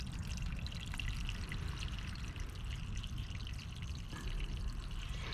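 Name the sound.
water draining out of a self-watering plant container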